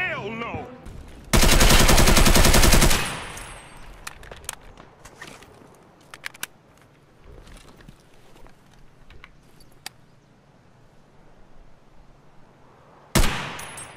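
Gunfire in the video game Escape from Tarkov, led by a loud sustained automatic burst of about a second and a half, then scattered single shots, footsteps and clicks, with another loud shot near the end.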